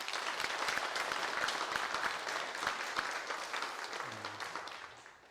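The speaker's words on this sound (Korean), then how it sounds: "다시 한번 우리가 축복하고 격려하는 박수 한번 합시다" A Korean church congregation at a Sunday praise service claps together after a young musician's performance, even and sustained applause that gradually tapers off toward the end, with a brief voice near the close.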